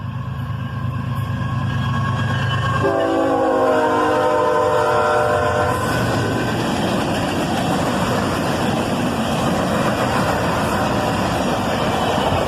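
Northbound mixed manifest freight train led by two ES44AC locomotives, a loud multi-tone horn sounding for a few seconds before giving way to a heavy, continuous rumble of passing cars and engines, close by and without talk.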